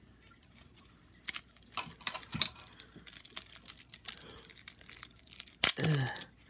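Yu-Gi-Oh! Rokket Revolt structure deck packaging being cut open with scissors: crinkly plastic rustles and snips in scattered bursts, with a louder tearing crackle near the end, fairly close.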